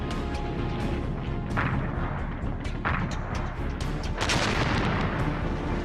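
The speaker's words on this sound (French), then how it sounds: "L'artillerie russe les bombarde jour et nuit." Russian artillery bombarding an encircled German force near Minsk in the Second World War, heard as a dense, loud roar of repeated blasts and crashing impacts, with a heavier burst near the end.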